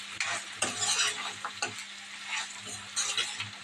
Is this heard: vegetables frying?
yes